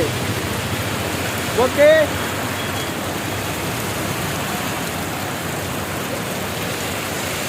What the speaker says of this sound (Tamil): மழை சரியான மழை பெஞ்சிட்டு இருக்கு.